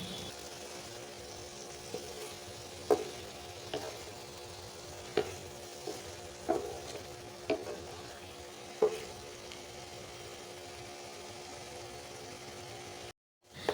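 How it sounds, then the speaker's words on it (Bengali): Vegetables fry in oil for a taro-leaf shukto while being stirred, a low steady sizzle punctuated by occasional soft knocks of the spatula against the pan, faint and close, without talk. "এভাবে নেড়ে চেড়ে সুন্দর করে ভেজে নেব আস্তে পচে ভাজতে হবে"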